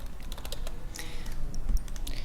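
Quick, uneven run of key clicks as a folder name is typed on a computer keyboard, close by and fairly quiet, with no voices.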